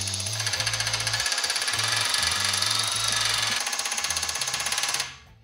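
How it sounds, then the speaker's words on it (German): A cordless drill drives a small homemade concrete vibrator, making a loud continuous rattling, buzzing whir close by for about five seconds before it quickly winds down and stops. "das kann man zum Beispiel ganz einfach mit dem Akkuschrauber betreiben"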